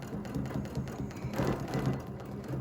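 A sewing machine stitches a snowflake quilt block in a continuous run, its rapid needle mechanism clattering rhythmically at close range without any talking.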